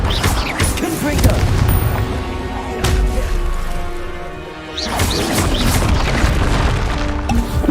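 Repeated Confringo blasting-spell explosions in Hogwarts Legacy come as loud booming crashes over dense combat noise, with a spell caster calling out between blasts.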